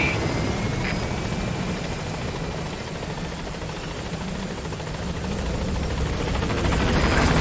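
In Metal Gear Solid V, a support helicopter arrives with a steady, loud rotor wash and dense roaring chop that swells slightly toward the end, without voices.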